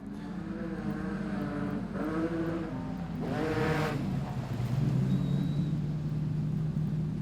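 Production sedan race cars run three wide in a heat race, with engines revving and passing in overlapping rising and falling drones, one car clearly climbing in pitch above a constant roar of the field.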